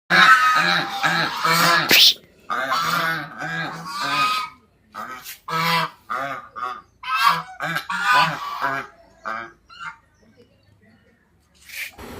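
Domestic geese honking in a garden area, loud close calls in irregular bursts separated by short pauses, with a few harsh rasping notes mixed in.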